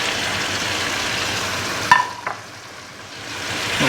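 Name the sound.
spices being added and stirred in a cooking pan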